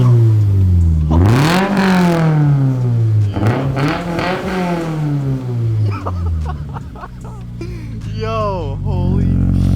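A Subaru BRZ with a newly installed aftermarket exhaust revs up loudly and close after its first start, rising and falling in repeated pulls before settling, with people talking over it.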